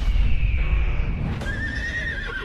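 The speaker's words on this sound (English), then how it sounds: "Something very wrong with that horse." A horse neighs loudly and close, a long shrill whinny over a low rumbling background, with a faint clatter of hooves.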